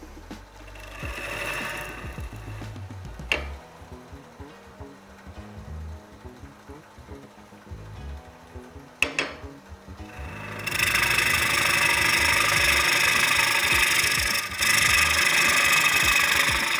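A wood lathe turns a self-closing hollow form at roughly 750 to 800 RPM, a steady whirring drone with a gouge scraping and rasping at the spinning wood. The cutting grows louder and brighter toward the end, with no voices.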